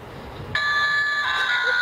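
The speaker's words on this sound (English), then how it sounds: "We got the bell!" A bell rung during a band rehearsal where the players were gathering instruments, entering sharply and holding a bright, steady metallic ring with stacked high tones, heard fairly close over a low murmur of room noise.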